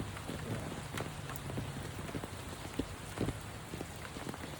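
Steady rain patters on and around a beehive during a hive installation, a dense even hiss of drops with occasional louder nearby splats, moderately faint and with no other sounds.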